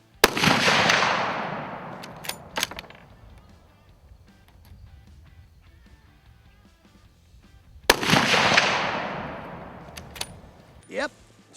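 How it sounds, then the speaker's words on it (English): Two unsuppressed shots from a .300 Win Mag rifle ring out several seconds apart, each a sharp loud crack trailing into a long echoing decay, with clinks and a brief voice in between. "we're going to shoot a couple shots unsuppressed"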